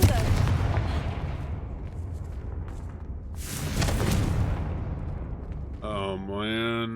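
A fiery Confringo spell blast in the Hogwarts Legacy video game: a booming low rumble opens, then one loud, close explosive burst surges midway and fades, and a voice speaks briefly at the end.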